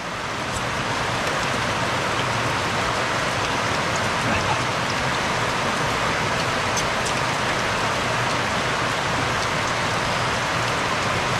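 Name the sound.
rain falling on a rainy day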